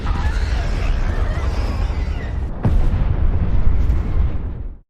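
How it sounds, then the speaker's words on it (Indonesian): A big bomb explosion in the film Mickey 17: a sharp crack followed by a loud, sustained roaring rumble that fades out at the end. "dan ledakan besar pun terjadi"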